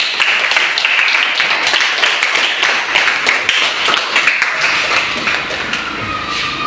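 Students in a classroom clap together, a loud and fairly rhythmic burst of hand claps that keeps going for several seconds and eases slightly toward the end.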